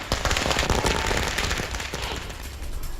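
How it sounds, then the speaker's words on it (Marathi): Rapid, loud volleys of firecrackers bursting in quick succession at a street celebration in Latur by party workers, crackling densely for a few seconds with no talking. "फटाक्यांची आतषबाजी करत कार्यकर्त्यांनी आनंद साजरा केला"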